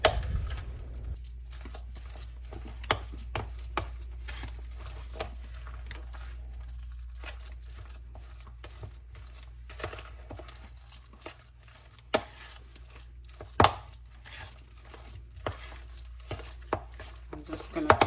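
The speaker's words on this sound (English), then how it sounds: "I'm just going to continue mixing that together" Homemade lasagna filling is worked together by hand in a bowl, giving soft squelching, irregular sticky clicks and slaps over a quiet low hum, close and unaccompanied by speech.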